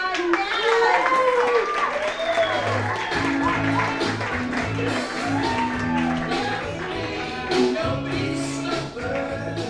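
An outdoor fashion show audience claps and cheers for a comedian, dense applause running throughout with scattered shouts and a voice speaking over it.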